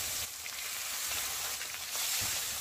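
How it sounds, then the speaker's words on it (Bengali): Whole fish, bhola fish, frying one by one in hot oil in a wok: a steady, bright sizzle and crackle held evenly throughout, with brief louder spits of spattering oil. "এবার আমি এতে একে একে মাছগুলো ভেজে নেব।"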